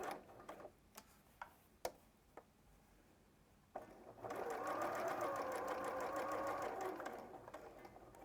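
Domestic sewing machine stitching up to a marked point: a few isolated ticks and clicks as the needle is aligned, then a steady, close, rapid whirring run of stitching for about three seconds before it slows.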